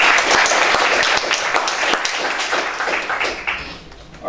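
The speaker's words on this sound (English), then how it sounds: "So one last round of applause for them." Audience applause for conference sponsors at a MetaSUB Consortium talk in Shanghai, a dense wash of many hands clapping steadily, thinning slightly toward the end.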